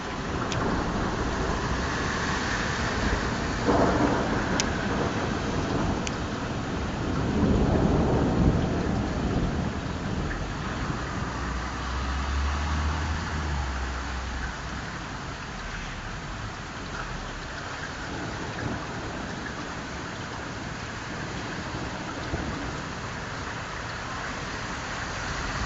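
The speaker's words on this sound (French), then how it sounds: "on entend surtout tonner" A thunderstorm, with steady rain pattering on surfaces throughout and low rolling thunder rumbling in the distance several times, no voices.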